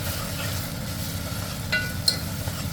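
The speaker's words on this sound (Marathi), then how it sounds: "हळद, कस्तुरी मेथी, लाल मिरची पावडर, धने पावडर टाकून व्यवस्थित परतून घ्यायचं" Turmeric, kasuri methi, red chili powder and coriander powder are stirred in hot oil, giving a soft, steady sizzle with light scraping from the spoon and a couple of sharper clinks near the end. No one speaks.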